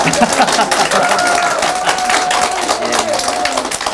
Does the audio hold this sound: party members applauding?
yes